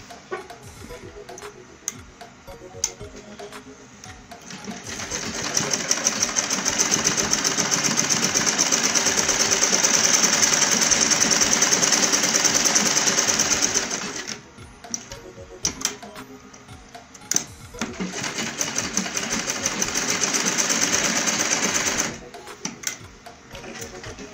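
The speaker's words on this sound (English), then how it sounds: "So let's go to our sewing machine. So I will stitch this handle by ½ inch." A sewing machine stitches a tote bag handle in two long, steady runs of rapid mechanical whirring, with quiet pauses and small clicks between them.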